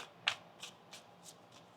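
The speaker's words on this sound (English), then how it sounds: "One more shuffle." Tarot cards being shuffled by hand in short riffled bursts, about six soft, quick flutters spaced roughly a third of a second apart, close and quiet, with no talking.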